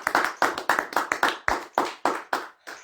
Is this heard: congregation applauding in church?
yes